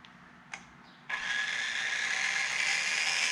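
A Carrera Go 1/43 slot car Lamborghini motor spins up with a high, steady electric whine after a couple of brief clicks, holding a constant buzzing pitch close by.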